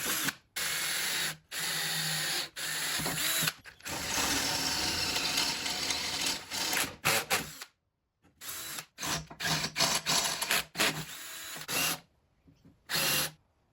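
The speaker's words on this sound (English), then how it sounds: "so I marked up the position of the screws and drilled the holes." Power drill boring holes in an aluminium shroud extension for a panel saw, several loud bursts of whirring separated by short silences, close up and alone.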